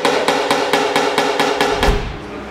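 A hammer taps steadily on a dented car body panel, eight or so crisp, close metallic strikes at an even pace, then a dull knock before the tapping stops.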